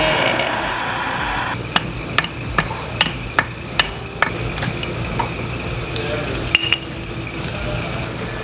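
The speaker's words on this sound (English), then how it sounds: "try to air hammer them out" A series of sharp metallic air hammer strikes driving out differential bushings on a Lexus IS300, about a dozen evenly spaced bangs, ringing out over a steady hum of shop machinery.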